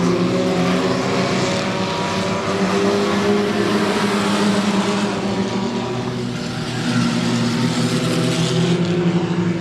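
Loud, sustained roar of race car engines circling a track, several cars passing close in an overlapping drone with rising and falling pitch, no voices over it.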